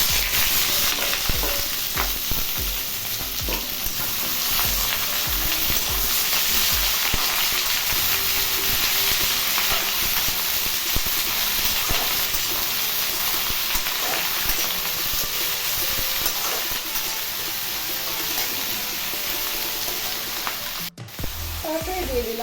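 Potatoes and onions sizzle steadily in a frying pan for a chicken curry masala, with continuous broadband frying hiss and occasional stirring scrapes, loud and close throughout.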